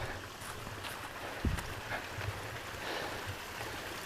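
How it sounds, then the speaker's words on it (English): Small mountain creek beside a hiking trail near Looking Glass Rock in North Carolina, heard as a steady, fairly faint rush of flowing water with a few soft thumps over it. "Got a creek coming up."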